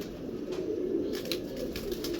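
Pigeons coo softly in a low, rolling murmur, fairly faint and continuous beneath a light background hum.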